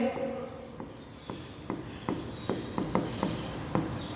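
A pen writes by hand on paper, producing a series of short soft scratchy strokes and taps at an irregular pace, close and quiet, with a faint voice in the background.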